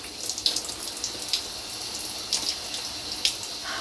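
Steady rush of running water splashing close by, with small irregular spatters and drips, no voices.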